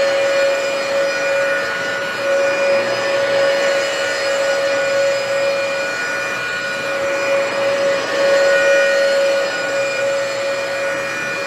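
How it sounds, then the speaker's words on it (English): A Dyson vacuum cleaner runs steadily and loudly at close range while vacuuming, giving a constant whine with no talk over it. "Don't critique my vacuuming form, please."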